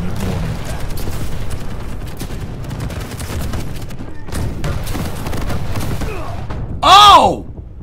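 Weapon fire in the Quake Champions arena shooter, including a rocket launcher: a dense run of thumping shots and booms, followed by a loud, bright burst near the end, all under a player's talking.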